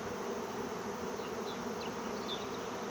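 A honey bee swarm being captured into a hive box, a faint steady hum of many bees buzzing together, with a few individual bees droning past nearby.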